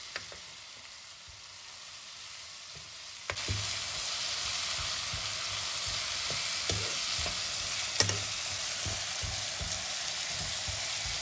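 Tomato masala with turmeric powder for Mangalore-style chicken sukka is stirred in a pan. A quiet start jumps to a loud, continuous sizzle, with occasional clinks and scrapes of the spoon.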